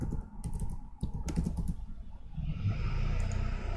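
Quick bursts of keystrokes tap out a password on a computer keyboard, close and crisp, followed by a soft hum.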